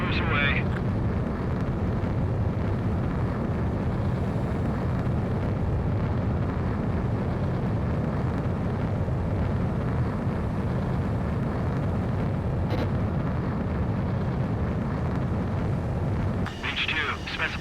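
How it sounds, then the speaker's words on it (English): A fighter jet in Ace Combat 7 roars steadily through a sustained takeoff launch, a loud, broad engine rumble lasting throughout with brief radio voices over it. "begin takeoff sequence. You're cleared for launch."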